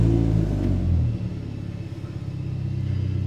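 A BMW 320i petrol engine with its muffler deleted revs loudly up close, a deep throaty rumble that swells and then settles into a pulsing, raspy drone.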